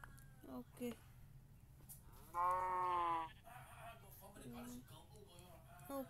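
Sheep bleating in a block-building survival video game, a single drawn-out bleat in the middle with a person talking briefly before and after it.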